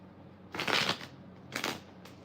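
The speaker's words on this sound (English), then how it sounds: "One more shuffle." Tarot cards are riffled in two clear bursts, then a brief third flick. The close, papery shuffling stands alone against quiet room tone, with no talking.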